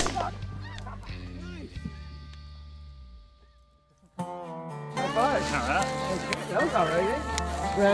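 Snow geese honk during a waterfowl hunt in Canada, a flock calling repeatedly in overlapping bursts, fading briefly before a louder surge of honking returns with people talking over it.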